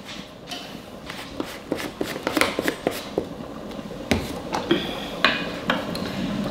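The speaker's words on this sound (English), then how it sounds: "I'm going to just stir that into all of our sauce" Spoon scraping and clinking against the metal insert of an Instant Pot while chili powder is stirred into chili sauce, a run of irregular close taps and scrapes with no talking.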